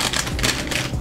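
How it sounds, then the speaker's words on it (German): Packing tape being sliced open on a sneaker box, a run of dry, scratchy rasps and crackles in quick uneven bursts, close up with no talking. "Die ist auch zugemacht mit Klebeband. Die muss ich dann einfach aufschneiden."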